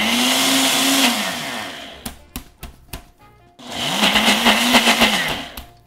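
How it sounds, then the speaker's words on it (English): A blender whirs loudly through smoothie bowl ingredients in two bursts, with clunks and knocks from the jar in the pause between them. "I'm just gonna add a little bit more liquid here and blend"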